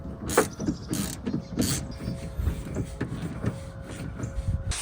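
Bolts are tightened in on a 2010 Chevy Tahoe LTZ rear driver-side exterior door handle, giving close mechanical ratcheting clicks and a few sharp clacks in an irregular rhythm, with a faint steady hum behind them.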